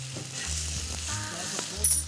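Pork belly sizzles and fries on a grill, a close, continuous crackling hiss over a low hum, heard on its own for a brief moment.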